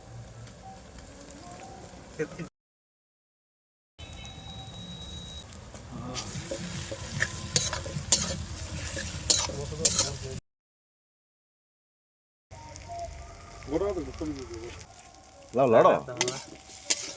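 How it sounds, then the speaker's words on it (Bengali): Duck meat being stirred and fried in a pan, a steady close sizzle with scraping stir sounds, broken by two silent gaps, with a person talking over the latter part. "যত লাড়বে মালটা তত ভাজা হবে"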